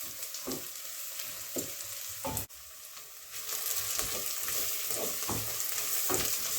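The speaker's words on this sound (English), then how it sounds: "So the onion and garlic is caramelising nicely" Onion and garlic sizzle steadily in a frying pan as they caramelise, with a constant hiss and a few sharp clinks and scrapes of a utensil stirring them through the pan.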